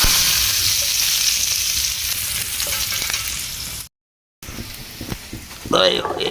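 Steady loud sizzling of onions frying in hot oil, crackling continuously, with a brief cut to silence and a voice speaking near the end.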